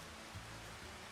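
Steady rain falls across a farm in a farming video game, a soft continuous hiss of drops without any talking over it.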